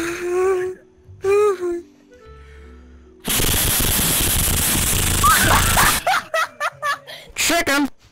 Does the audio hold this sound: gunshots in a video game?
yes